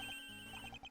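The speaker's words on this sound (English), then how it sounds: "That's a cell phone." A cell phone rings in the Ace Attorney Investigations video game, a faint repeating electronic ringtone of short bright tones recurring steadily through the second, with no talking.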